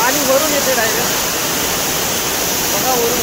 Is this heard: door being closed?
no